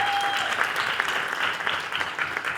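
Audience applause for a singer on a music stage show, a dense steady clapping that fills the whole stretch at close range, with no voices breaking through.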